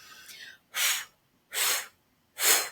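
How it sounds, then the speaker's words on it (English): A person's breathing shows up as three strong, separate breathy bursts, evenly spaced with silence between them, close to the microphone and loud, with no speech. "Breathing in."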